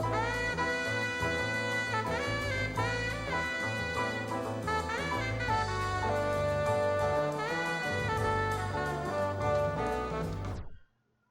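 A live jazz band plays a dense, busy passage with horns and rhythm section together, then the music stops abruptly. Recorded live at the Copenhagen Jazz Festival.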